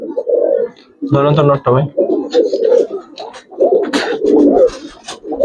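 Giribaz pigeons coo on a pigeon farm in repeated low murmuring bursts, close and fairly loud, with someone speaking briefly among the calls.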